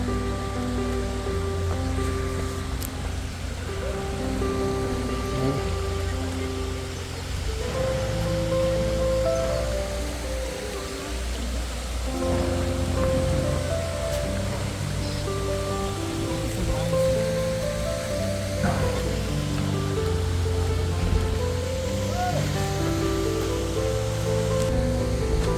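Krang Shuri waterfall in Meghalaya pours steadily down the mountain, a constant broad rushing roar with a faint melodic tone running beneath it.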